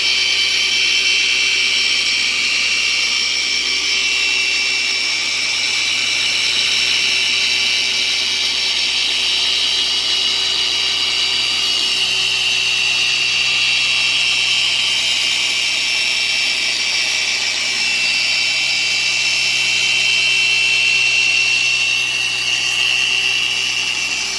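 A dual-action car polisher running on a car, a loud, steady mechanical whir with a high-pitched hum that holds constant for the whole stretch, close up with no talk.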